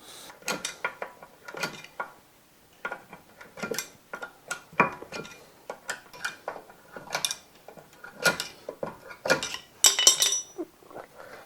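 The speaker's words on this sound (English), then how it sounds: "we should be able to pull the handbrake lever up by 3 or 4 clicks and it should lock up solid both sides" The handbrake lever of a Ford Anglia is pulled up again and again, each pull giving a close burst of sharp ratchet clicks, with short quiet gaps between the bursts.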